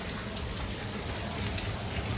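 Heavy rain mixed with hailstones pours down in Thakurgaon Sadar, a dense, steady broadband roar of drops and ice striking surfaces close by, unbroken and loud throughout with no voices.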